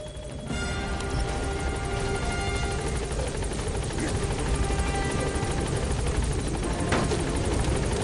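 A helicopter arriving at a landing zone in the video game Metal Gear Solid V, heard as a loud, continuous rotor roar with a steady pulsing thrum that stays close throughout.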